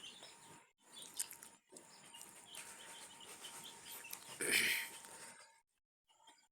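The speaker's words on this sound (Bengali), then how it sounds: "এখানে আমার পঞ্চাশ পিস মুরগি আছে" Fourteen-day-old chicks on a small poultry farm peep and chirp in faint, broken bursts, with a louder cluster of calls near the middle before the sound trails off.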